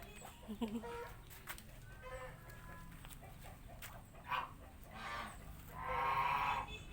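Chickens cluck and a few other fowl call faintly in a home yard kept alongside ducks and geese, scattered calls over a steady outdoor background with a louder squawk near the end.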